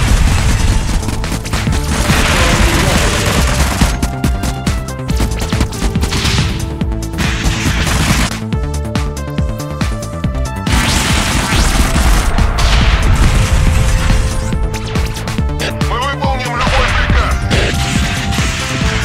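Dense, continuous gunfire and crashing impacts during a raider battle in the Convoy video game, loud and sustained with rapid repeated bursts throughout.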